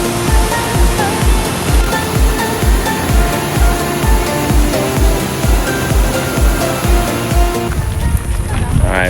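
A waterfall cascade beside a Grand Teton hiking trail gives off a loud, steady rushing roar close by. It holds constant throughout and carries a faint rhythmic thumping underneath.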